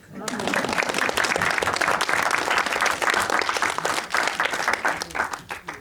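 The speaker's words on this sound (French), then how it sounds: "Moi je dis on l'applaudit encore." Sustained applause from an audience at an evening event, a dense, loud and even roar of many hands clapping that holds steady throughout.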